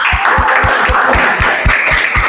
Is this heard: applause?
yes